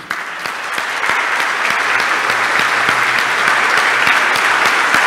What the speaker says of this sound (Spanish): darle el más fuerte y sonoro aplauso de felicitación